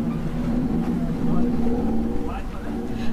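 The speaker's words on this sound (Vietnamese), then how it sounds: "Tại vị trí lặn, thuyền trưởng cho động cơ của thuyền gầm rú." Dive boat engine revved by the captain at a shark diving site, a steady low droning roar throughout, with a narrator speaking over it.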